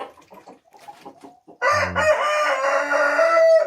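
A six-month-old rooster in a farmyard of laying hens gives one loud, sustained crow at close range, following a stretch of soft, scattered clucking.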